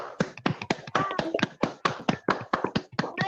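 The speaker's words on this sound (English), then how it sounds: "Please give a huge round of applause to Miss Palo Arnavi." Sharp, rapid claps from a small group at a prize-giving, a quick irregular patter of hands close to the microphone.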